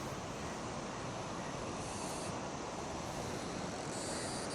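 A river flowing at a fishing spot gives a steady, dense rushing wash that holds evenly throughout with no voices.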